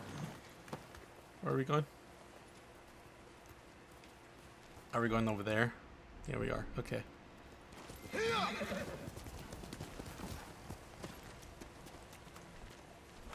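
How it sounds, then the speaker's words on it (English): Horse hooves clip-clop in the Ghost of Tsushima video game, with whinnies breaking through in short bursts; someone talks over parts of it, and the hoofbeats sit low and steady in the background. "Oh, is that my horse?"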